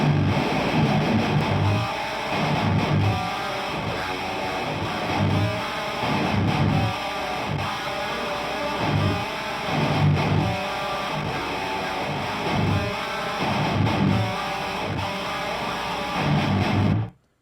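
A heavily distorted electric guitar, run through a TS808 overdrive, a Jugendstil pedal and a Helix, plays a harsh buzzsaw HM2-style tone. Chugging riffs with rhythmic accents continue without a break, loud and close, with no voices.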